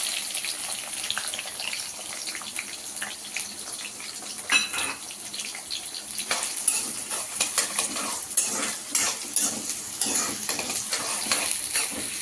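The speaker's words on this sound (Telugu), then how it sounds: "ఇలా ఉల్లిపాయ పచ్చిమిర్చి కరివేపాకు బాగా ఫ్రై అవ్వాలి." Onion, green chillies and curry leaves fry in a pan with a continuous sizzle, broken up by scraping stir strokes and light utensil clatter close by.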